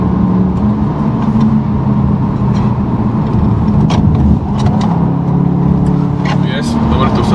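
A Volkswagen Tiguan R SUV with a 320-horsepower engine driving fast on a forest asphalt road, with steady loud engine and road roar throughout and people talking over it inside the cabin.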